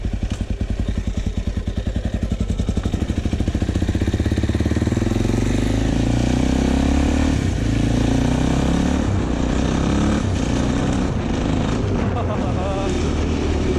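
Rebuilt Suzuki DRZ motorcycle engine running loud and close, a steady throbbing idle that shifts in pitch as it is run through five gears, with some clattering, no clear talk.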